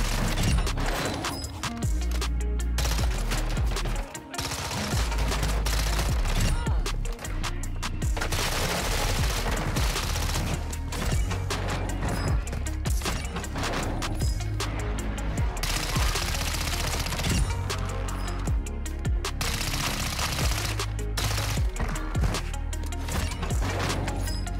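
Automatic fire from the X13 gun in Warzone 2, a loud, dense stream of rapid shots in long sustained bursts with short breaks, close and continuous without speech.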